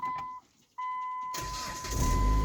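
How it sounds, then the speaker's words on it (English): A Dodge Journey car engine cranks and catches after a short pause, then settles into a steady idle that grows slightly louder, with a faint beeping tone heard before the start and no talking. "and then car is now start properly."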